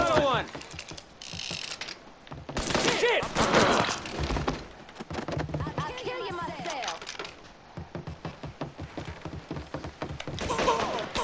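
Gunfire erupts in the Mafia 3 video game, a chaotic stretch of rapid, clattering shots and mechanical clanks that comes in dense bursts, mixed with shouting voices throughout.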